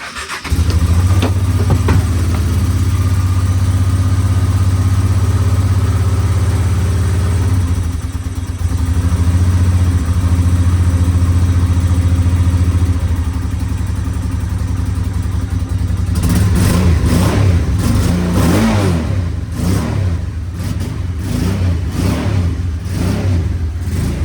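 A Honda Deauville 650 motorcycle engine starts and settles into a loud, steady idle that runs close by for a long stretch, then gets several sharp throttle blips and revs near the end.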